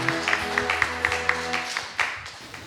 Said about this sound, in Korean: 우리 축복의 박수를 부탁드리겠습니다.